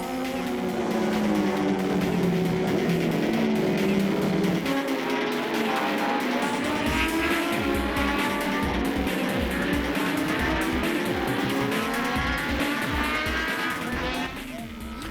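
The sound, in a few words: classic racing motorcycles passing on track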